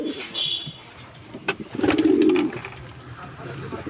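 Pigeons coo softly as their loft is opened on a cloudy dawn before rain, a low throaty coo standing out amid faint rustling and light background noise.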